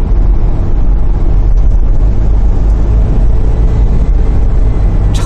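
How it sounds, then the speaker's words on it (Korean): Loud, steady engine drone close by from an idling 2009 Kia Grand Carnival, a constant low rumble with no pauses or talking. "이제 매장에 들어가서 한번 공회전 한번 시켜서 매연 나오는 거 한번 보자고요"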